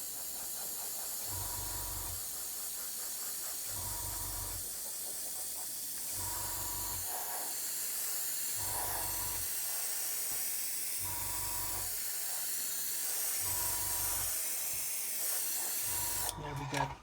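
Tamiya grey paint sprayed as a very thin coat onto a model kit: a continuous airbrush hiss running throughout, with someone speaking over it in short phrases.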